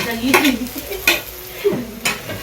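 Onion, garlic and tomato fry in a pan with a steady sizzle, broken by several scraping stirs of a spatula at roughly regular intervals, close and clear with no talk.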